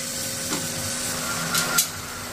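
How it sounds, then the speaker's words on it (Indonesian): Jengkol beans grill in a pan with a steady, even sizzling hiss throughout, broken by a couple of faint stirring scrapes and one brief clink, close and unaccompanied by voices. "kayak begini manggang jengkol"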